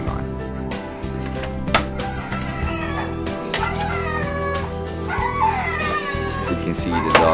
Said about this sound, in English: You can see the dog's a little bit loud